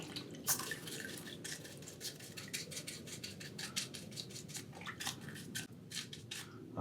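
Chainsaw air filter sloshed around in a bucket of soapy water, faint wet swishing and dripping with irregular splashes, close and fairly quiet throughout.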